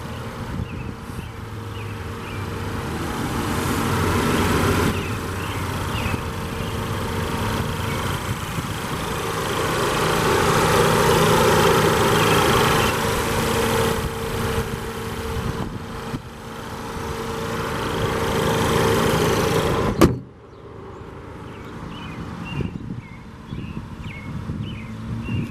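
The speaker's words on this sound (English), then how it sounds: "this one does have the 2-liter turbocharged 4-cylinder" A 2016 Volkswagen GTI's 2.0-liter turbocharged 4-cylinder engine idles steadily with a low, even hum and faint wind noise, then cuts off abruptly near the end, leaving quiet.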